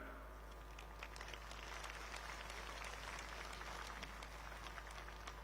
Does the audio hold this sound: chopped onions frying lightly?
no